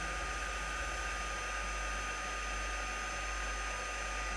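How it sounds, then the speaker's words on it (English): An embossing heat gun blowing steadily over embossing powder on a craft piece, a constant close airy whoosh with a low hum and no talking. "when I talk over the embossing gun"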